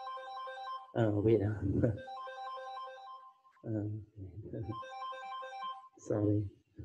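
A mobile phone ringtone for an incoming call plays as a repeating melodic tone pattern while someone speaks briefly over it in short apologetic phrases.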